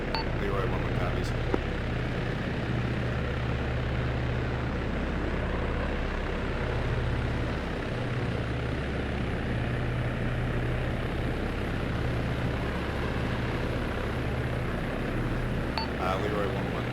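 A Black Hawk helicopter spools up before lift-off, its turbine and rotor noise a loud, steady drone with a low rhythmic thrum, while radio chatter is heard over it.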